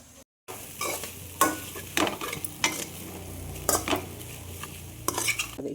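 A spoon scrapes and stirs tomato fried rice in a hot pan, with a steady sizzle of frying and several clanks of the utensil against the metal, close and clear with no talk.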